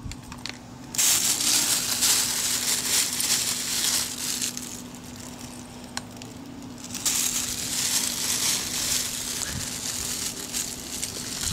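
Crushed fertilizer pellets sprinkled over lettuce microgreens make dry crackling and pattering grains for several seconds, close and fairly loud, with pauses between pours and a faint steady hum underneath.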